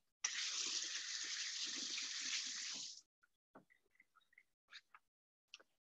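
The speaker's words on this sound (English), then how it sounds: "So let me give my hands a quick rinse." Hands rinsed under a running kitchen tap: a steady, close hiss of water for about three seconds, then it cuts off, followed by a few small drips, splashes and handling sounds.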